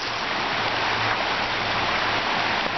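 Creek water flowing steadily at an off-grid camp, a constant close, loud rushing hiss with no pauses.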